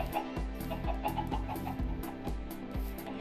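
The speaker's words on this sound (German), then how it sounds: "Die blöden Pock-Pock-Hühner" Blocky Minecraft chickens cluck in short repeated bursts over a steady game music bed, the fowl sounds close and moderately loud without any talking.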